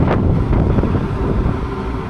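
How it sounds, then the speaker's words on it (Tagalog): Strong wind on Fortune Island buffets the microphone with a loud, continuous roar and rumbling gusts, without pause. "Ayan, malakas ang hangin."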